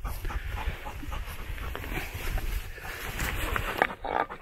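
A dog pants loudly and rapidly right next to the listener, quick rhythmic breaths continuing throughout, with a faint voice briefly near the end.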